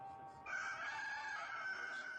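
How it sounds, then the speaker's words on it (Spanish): A rooster crows once in a drawn-out cock-a-doodle-doo, fairly faint and distant, preceded by a short rising start over a quiet background. "En ese momento, el gallo cantó."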